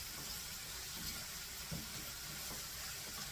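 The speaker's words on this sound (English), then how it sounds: "make sure that you rinse them really, really, really good" Canned potatoes being rinsed under a running kitchen tap, giving a steady close hiss and splash of water that holds evenly throughout with no talking.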